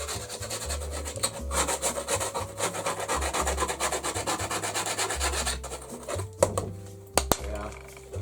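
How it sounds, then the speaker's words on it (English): Scraping paint across a painting surface, a close, vigorous rasping scrape in rapid repeated strokes for several seconds, then a few sharp knocks and lighter scrapes near the end. "But down here, being quite violent with the scrape."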